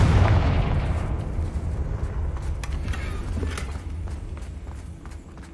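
A Confringo fire spell in Hogwarts Legacy bursts with a loud, close explosion, then a rumbling tail slowly fades while light clattering movement continues beneath.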